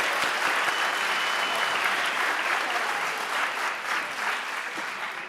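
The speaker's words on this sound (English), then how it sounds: "So give them a round of applause." Audience at a school band concert clapping in a steady, full round of applause that holds for several seconds and eases slightly near the end.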